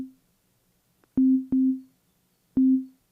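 A pure sine wave bass tone from an Operator synth in Ableton, triggered by a kick drum, sounding three short, round, low hums with sharp clicky onsets and quick decays, played alone.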